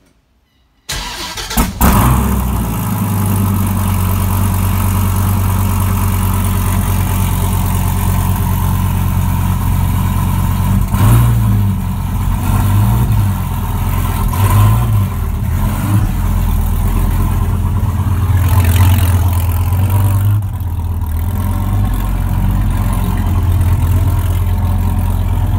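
A Dodge Viper engine cold-starts with an abrupt crank and catch, then settles into a loud, rumbling idle that holds steady with slight wavers for the rest of the clip.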